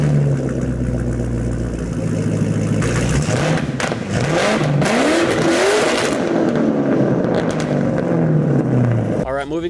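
A 2005-2009 Ford Mustang fitted with an off-road X-pipe exhaust revs loudly up and down close by, the engine note rising and falling in sweeps over a steady rumble, with some background voices.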